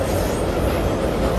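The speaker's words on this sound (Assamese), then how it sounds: "ট্ৰেইন যাই আছে ওপৰেৰে আৰু আমি তলত" A train passing overhead on a bridge, heard from below: a loud, steady rumble of wheels and cars that fills the whole moment, with no voices.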